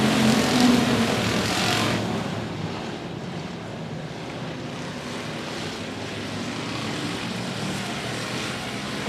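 Race cars roar around the 105 Speedway oval in a steady, continuous engine drone. The sound is loudest at the start and stays fairly even after that, with no talk over it.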